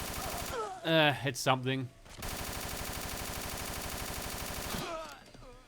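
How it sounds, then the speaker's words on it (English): A light machine gun in Fallout 4, fitted with a muzzle booster and rapid receiver, fires one long, fast, evenly pulsing burst of about three seconds, loud and close, just after a short spoken line. "the rate of fire with the muzzle booster and the rapid receiver is more akin to the M249"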